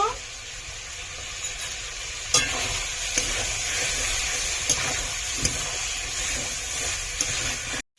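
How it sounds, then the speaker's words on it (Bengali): Chicken pieces fry and sizzle in a pan with chili powder on a village-style stove, a constant crackling sizzle broken by sharp scrapes and knocks of stirring. "মাংসটা তাই আগে ভেজে নিচ্ছি।"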